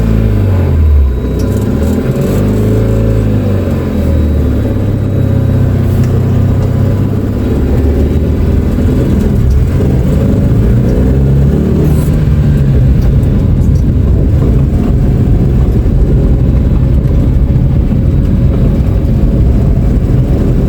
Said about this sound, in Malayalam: നമുക്ക് നമ്മുടെ ഈ ടാറ്റ നാനോ LX നമുക്കൊന്ന് ഓടിച്ചു നോക്കാം